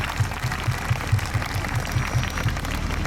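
Applause from a church congregation for the pastor, a dense wash of clapping with regular low thumps, steady and moderately loud for a few seconds without speech.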